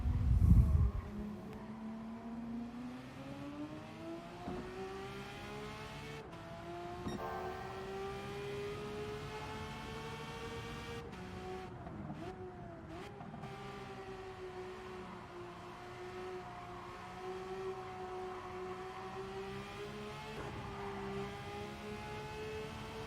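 Race car engine in the video game Gran Turismo 7, a sustained high engine tone climbing steadily through gears with brief shift dips, alone and unbroken over about twenty seconds after a short low thump at the start.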